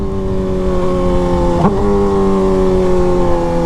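Steady loud exhaust drone from a Suzuki GSX-R 600 sport motorcycle at speed, holding an even pitch with a brief shift-like blip midway and no voices.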